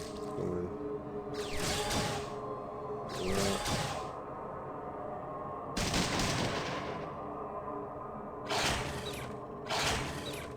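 Bursts of gunfire from the Fallout 2 video game, several loud broadband volleys spaced a second or two apart over steady mechanical game ambience, with no talking.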